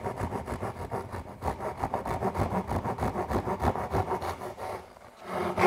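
Japanese pull saw cutting through a wooden board, a steady run of rhythmic rasping strokes at close range, pausing briefly near the end before resuming.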